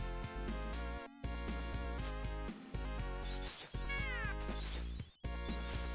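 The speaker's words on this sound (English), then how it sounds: "How many games let you send a cat fucking flying into the stratosphere?" A cat meows in the Genesis-era game Michael Jackson's Moonwalker, with short rising electronic yowls around the middle, partly masked by loud, steady chiptune music throughout.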